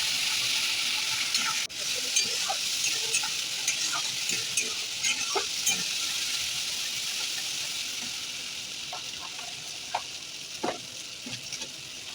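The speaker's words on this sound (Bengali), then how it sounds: "ভালো করে কষিয়ে নেব।" Ground spices with turmeric and Kashmiri chili powder sautéing in hot oil for a crab curry give a loud, steady hiss, with occasional soft clicks and scrapes of stirring.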